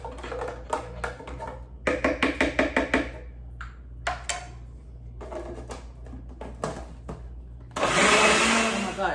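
A blender runs on a berry yogurt smoothie with vanilla almond milk in short pulsing bursts and stop-start knocks as the mix sticks, then a loud continuous whir at the end, with no voices.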